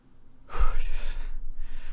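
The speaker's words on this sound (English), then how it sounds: "If you wonder why I'm breathing heavily, it's because I've just been doing a victory dance" Heavy, gasping breaths from a man winded after a victory dance, close to the microphone: a sharp inhale followed by ragged exhales and sighs.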